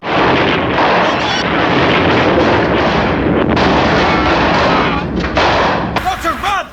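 Rapid bazooka blasts and explosions from the Helldivers video game in a Doctor Who crossover battle, loud and continuous throughout, dense booming fire with brief voice fragments near the end.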